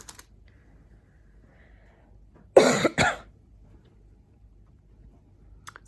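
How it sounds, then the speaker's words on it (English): Two quick, sharp coughs break an otherwise quiet room, close and fairly loud. "it's just a stupid cough"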